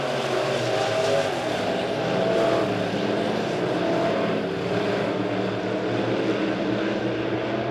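Modified race cars circle a dirt oval at Springfield Raceway, a steady loud roar of several engines droning together down the backstretch, continuous and fairly distant with no pauses.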